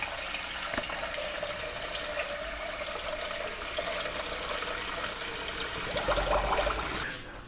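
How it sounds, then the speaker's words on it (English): Cold tap water running steadily into a pot, a continuous splashing hiss that deepens slightly as the pot fills halfway, then cuts off near the end. "we're going to fill this pot up with some water."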